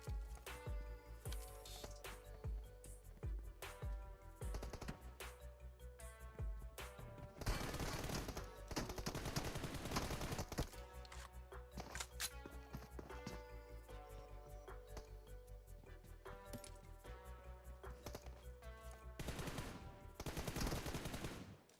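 Rapid automatic gunfire from a PUBG Mobile match at a grand finals event, dense continuous bursts of shots throughout, loud and layered with faster machine-gun volleys in several stretches.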